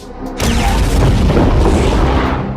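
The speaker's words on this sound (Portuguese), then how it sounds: "A munição foi levada para um lugar seguro e destruída em uma explosão controlada." A controlled detonation destroys a World War II sea mine: one deep, heavy boom erupts and rumbles on for a couple of seconds, loud and sustained, with no voices.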